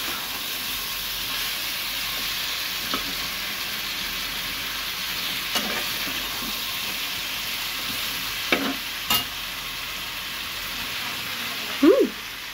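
Potatoes, chicken and spices fry in oil with a steady, close sizzle and occasional scrapes and clinks of stirring, a louder scrape near the end.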